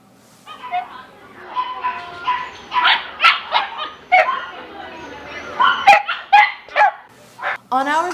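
Shelter dogs at a vet clinic bark, yip and whimper up close in a quick, uneven series of loud bursts, with voices mixed among them.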